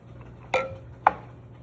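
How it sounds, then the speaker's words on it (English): A big spoon clinks twice against a pot while stirring egg into egg roll soup, two sharp close metallic taps about half a second apart over a low steady hum. "Now take a big spoon and put it in there and give it a stir."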